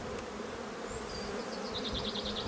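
Honeybees buzz steadily at a beehive tended by an amateur beekeeper, a close, continuous insect drone with rising whining tones from individual bees flying near.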